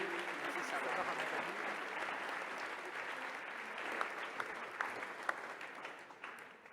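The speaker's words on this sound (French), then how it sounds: "Vous pouvez l'applaudir." An audience applauds a conference host at an event on Indigenous peoples' voices, steady clapping throughout with a few sharper claps standing out near the end.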